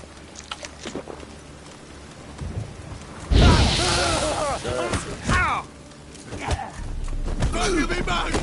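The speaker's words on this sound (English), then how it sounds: "Kill the horse!" Horse hooves clip-clop amid chaotic video game combat noise, with shouting voices and impacts rising and falling over several seconds.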